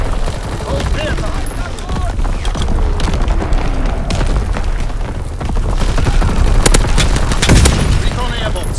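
Heavy artillery barrage and battle noise in Call of Duty: WWII multiplayer domination on the Shipment 1944 map, with loud continuous booms and gunfire rumbling throughout, sharp blasts near the end, and game radio voices over the din.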